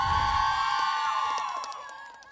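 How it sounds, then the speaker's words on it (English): A crowd at Linney Field cheers for a high school football game, loud shouts and whoops swelling at first and then fading away over a couple of seconds. "Always a crowd over at Linney Field to cheer on Mariah football."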